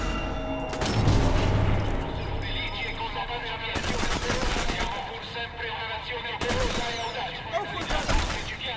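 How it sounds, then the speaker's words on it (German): Gunfire from the World War II sniper game Sniper Elite 4, dense bursts of shots and clatter that run loud and steady through the whole stretch, with a couple of sharp swells, and a voice now and then underneath. "Von wo schießt denn da einer?"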